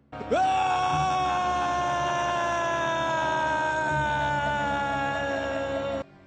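A drawn-out cartoon scream for an Easter bunny rabbit character rises sharply, then holds a long wavering cry for about six seconds, loud and alone.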